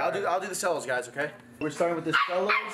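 Dogs bark and yip in a series of short bursts indoors, mixed in with people talking during a basketball card pack opening.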